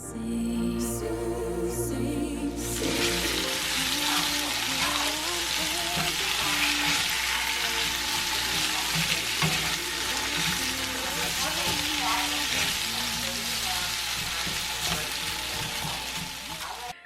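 Potatoes fry steadily in a pan at dinner time, a dense continuous sizzle with occasional stirring scrapes, close and loud throughout with no talking.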